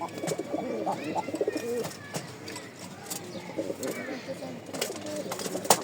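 Racing pigeons, including a top-quality hen, coo softly and repeatedly at close range amid rustling in a loft, with someone talking over them throughout.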